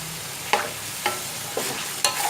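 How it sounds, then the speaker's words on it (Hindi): Chickpeas fried in oil with green chilies and coriander, for Lahori chicken chole, sizzle steadily while a spoon scrapes through them in four evenly spaced strokes, close and loud, with no speech. "अब इसको 2 मिनट हम भून लेंगे।"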